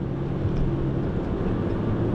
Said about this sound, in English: we're straight up driving into the woods now